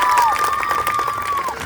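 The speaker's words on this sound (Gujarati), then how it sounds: "એકવાર જોરદાર તાળીઓ થઈ જાય રમેશભાઈ માટે." Audience applause for Rameshbhai at a costume competition event in Nadiad, a dense crowd clapping steadily at moderate loudness throughout, with faint tonal whistles or feedback above it.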